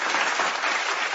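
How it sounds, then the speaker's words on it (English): Steady applause, likely canned or a stock clip, runs evenly without a break for about a second, as a dense wash of many hands clapping with no voices. "Applause to you all once again."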